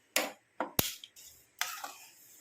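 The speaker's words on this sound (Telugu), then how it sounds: "ఇది స్టవ్ వెలిగించుకుందాం." A gas stove being lit in a home kitchen before cooking sugar syrup: a few sharp, close clicks in quick succession, then a longer soft rushing burst as the burner catches.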